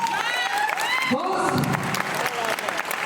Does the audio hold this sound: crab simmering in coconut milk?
no